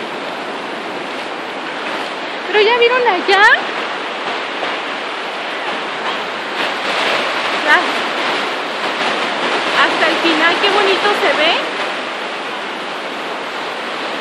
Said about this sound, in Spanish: Vamos a caminar un ratito para que vean las olas que se han estado bravucas.